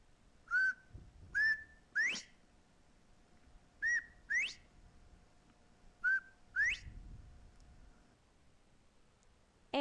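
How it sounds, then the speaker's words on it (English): Clear two-note rising whistles of a northern bobwhite quail in spring, repeated three times at intervals, fairly near against a quiet outdoor background. "Only the bobwhite, poor bobwhite whistle"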